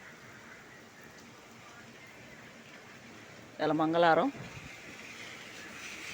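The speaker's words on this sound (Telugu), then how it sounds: "వర్షం ఫుల్గా పడుతుంది." Heavy rain pours down steadily during a monsoon thunderstorm, a dense continuous hiss running through the whole stretch, with someone speaking briefly in the middle over the downpour.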